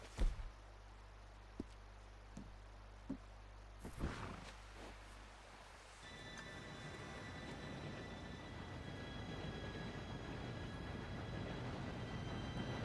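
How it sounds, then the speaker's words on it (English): A train approaching in Red Dead Redemption 2, a low rumble that starts faint after a few scattered knocks and swells into a steady, broad roar of rolling wheels and wind, with no talk over it. "Train should be here any minute now."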